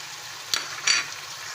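Chicken browning in a pot with spices being added, giving a soft, faint sizzle with two brief stirring scrapes or clatters, and no voices.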